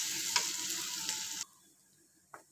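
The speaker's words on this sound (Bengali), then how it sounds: "আমি পেঁয়াজটা খুব ভালোভাবে নেড়ে চেড়ে ভাজা ভাজা করে নেব।" Chopped onion sizzles and hisses in a pan as it is stirred, a bright frying crackle that stops abruptly partway, followed by one short scrape.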